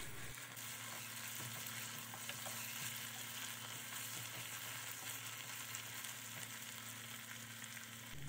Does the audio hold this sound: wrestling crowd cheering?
no